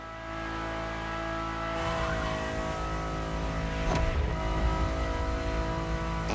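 A Ferrari supercar engine in the video game The Crew Motorfest drones steadily with rich harmonic tones, heard from inside the car, swelling louder partway through as it revs harder, with no talking.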